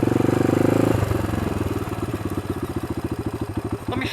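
Modified Honda 300EX ATV engine held on a wheelie, a loud steady revving drone that breaks into a rapid pulsing, throbbing exhaust beat, close and alone with no talk.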